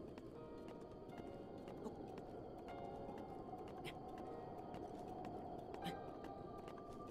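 Horses in The Legend of Zelda: Breath of the Wild gallop away in a rapid, steady clip-clop of hooves over faint background ambience, fairly quiet throughout.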